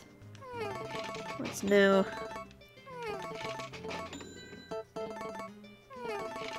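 A cat meows in the farming video game Harvest Moon: A Wonderful Life, a short game-style cry rising over busy background music, while someone talks through the clip.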